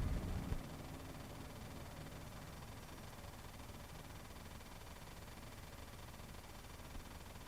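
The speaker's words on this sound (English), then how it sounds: "going to idle on down the racetrack" A race car at the Million Dollar Race idles along the racetrack after failing to get off the starting line, a faint, steady low engine rumble heard from a distance with no voices.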